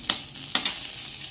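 Green chillies frying in a little oil give a continuous close sizzle, broken by two sharp scraping stirs of a spoon against the pan, with no voices.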